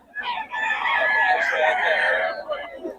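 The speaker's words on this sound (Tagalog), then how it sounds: "Ganda lang manok ni Boss Ga mga idol" A farm rooster crows loudly and close, one long sustained cock-a-doodle-doo lasting about two seconds.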